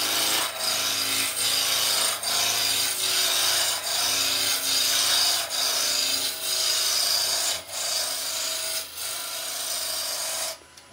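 A wooden blank is roughed down on a lathe with a gouge, giving a continuous rough, rasping cut broken by a few brief pauses as the tool is lifted and set again.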